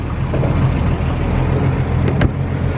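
An old Dodge racing car transporter's engine pulls away in first gear, a loud, steady low rumble close by with a brief rise near the end and no talk.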